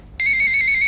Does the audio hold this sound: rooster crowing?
no